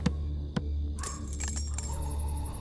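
Keys jangle in a movie scene, a short metallic rattle close by over a steady low background hum, with a couple of brief clinks and a busier jingle midway.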